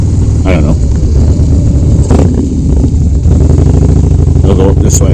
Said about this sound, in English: I'd have to ride with my bike in a lower gear so I can hear the exhaust.